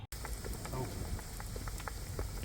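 Langos dough sizzles quietly in hot oil in a frying pan, a steady crackling hiss with small pops, faint and continuous.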